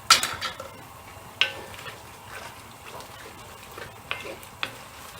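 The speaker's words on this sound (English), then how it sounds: "Give it a stir, close it up again and leave that to simmer for about 10 minutes" A sauce for smoked oxtail, made with Worcester sauce, soy sauce, balsamic, salt and pepper, is stirred in a pot. It gives soft bubbling and sizzling under a few sharp clinks of a utensil against the pot.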